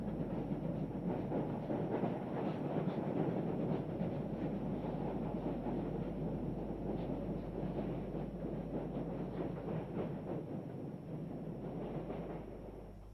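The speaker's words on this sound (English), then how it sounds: "locomotives 7A, number 1007 and 7B 1056, gingerly cross the Malharton Bridge on the Hartenbos George section with" Two South African class 7A and 7B steam locomotives ease a mixed freight train across the Malharton Bridge on the Hartenbos–George line, a steady low rumble with faint rhythmic clatter of wheels, distant and continuous.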